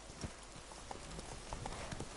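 Horse hooves clip-clop in an uneven walking rhythm over a soft ambient background, moderately quiet and close, in The Witcher 3: Blood and Wine.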